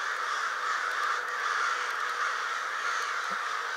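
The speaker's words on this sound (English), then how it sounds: "Murder of crows." Many crows gather over a swamp and caw without pause, a loud, thick wall of rasping calls that stays steady throughout.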